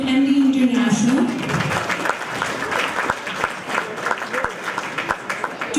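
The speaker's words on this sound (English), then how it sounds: "So a big round of applause to MD International." Audience applause at an annual fundraiser, a loud sustained round of clapping that builds and carries on for several seconds, with a voice briefly audible over it near the start.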